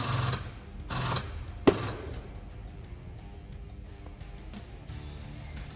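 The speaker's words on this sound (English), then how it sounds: "It's time to start up my Dent puller. We are now making our first pull." A dent puller yanks on a tab glued to a large dented car panel, giving a sharp snap near the middle of the clip, with earlier bursts of machine noise and steady background hum.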